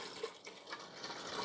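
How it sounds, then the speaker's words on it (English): Water poured steadily into the reservoir of a Keurig K-Duo Plus coffee maker, a soft continuous splashing and trickle, faint and close with no talking. "I'm going to pour water in here and we'll watch it."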